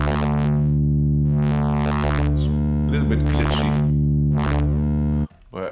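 Zebra3 synthesizer tones morphing through spline transitions, a sustained buzzy chord whose brightness sweeps up and down in repeated waves with glitchy jumps, loud and close, ending abruptly.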